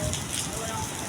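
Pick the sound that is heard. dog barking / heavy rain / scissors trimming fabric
heavy rain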